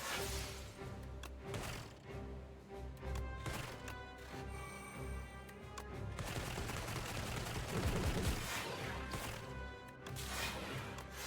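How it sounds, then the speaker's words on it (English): Barrage card attack in the video game Slay the Spire 2, a dense burst of rapid gunfire-like impacts and crashes over continuous game music, loud and sustained, swelling toward the end. "Oh, yeah, the barrage."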